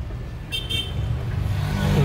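A BAIC BJ20 with a 1.5 turbo engine rolls downhill, its low engine and road rumble steady and close, with a brief higher whine partway through.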